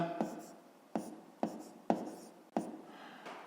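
Pen writing by hand during a fifth-grade maths exercise, with five or six distinct strokes, each a sharp tap followed by a short scratchy scrape across paper, close and quiet with brief gaps between.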